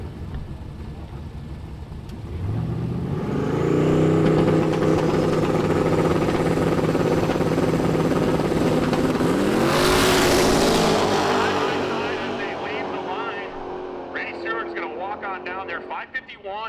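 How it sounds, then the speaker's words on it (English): Drag racing car making a 130 mph pass at Shadyside during a street racing event, engine note rising and building to a loud roar, swelling past and fading, with an announcer talking over it. "At 130 miles per hour, that's a good pass for that car."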